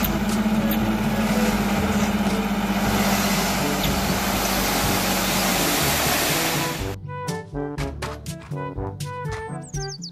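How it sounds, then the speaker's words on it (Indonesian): A toy dump truck's motor whirring in a steady, loud drone that stops after about seven seconds, followed by a run of sharp, separate clicks and knocks. "Mobil dump truck."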